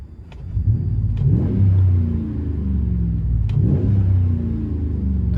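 A 2017 Ram 1500 pickup with a 5.7L HEMI V8 and MagnaFlow dual exhaust through 2.25-inch mandrel-bent pipe, revving twice in deep, rumbling bursts that swell and settle back to a steady, throaty idle close by.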